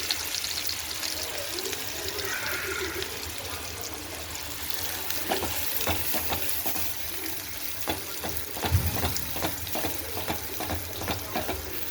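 Finely chopped onion fries in a pan with a steady hiss of sizzling oil. Stirring adds soft scraping and clicking in the second half, and there is no talking.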